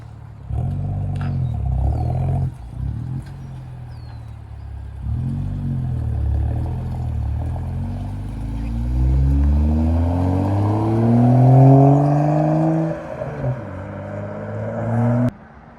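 A BMW 435i engine revs loudly several times at close range, with rising and falling pitch sweeps between short pauses. A longer climbing pull follows with crackling exhaust gurgles, then it settles back.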